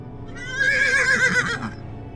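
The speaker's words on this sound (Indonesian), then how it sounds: "Kuda." A horse gives a loud, close whinny that rises and wavers for about a second, standing alone with no talk over it.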